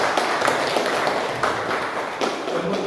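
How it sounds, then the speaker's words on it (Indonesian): Students applaud in a classroom during a geography lesson on volcanism, brisk sustained clapping from many hands, close and loud, with slight surges across the short burst. "Kita beri tepuk tangan dulu."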